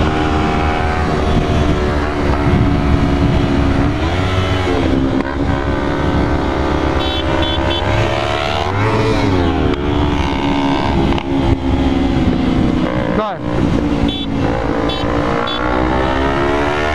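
A Kawasaki Ninja 250R engine roars loudly and continuously, its pitch rising and falling as it revs and accelerates, close and with no talking.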